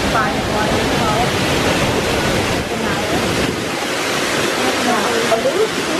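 An indoor waterfall feeding a filtered river in a hotel atrium roars continuously with loud, close, broadband rushing water, and voices are faintly audible beneath it.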